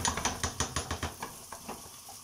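Potatoes sautéing in butter in a pan are stirred with a utensil, making a quick run of about a dozen rhythmic scraping knocks over a soft sizzle, slowing and fading toward the end.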